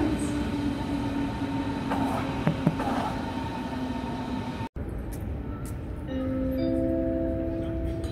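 Regional train RB 26 pulls into a platform at Berlin Ostkreuz station with a steady rolling rumble, faint clicks and squeal-like tones, then a rising sustained hum as it slows alongside.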